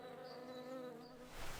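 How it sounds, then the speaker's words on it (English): A swarm of bees buzzes in a steady, faint drone around an old building during a location scout, with a rising rustle at the end and no voices. "I need to calm the bees first."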